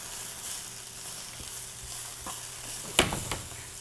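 Mushrooms sizzle in a pan with a soft, steady frying hiss, then a sharp toss with a clatter near the end, close and fairly quiet.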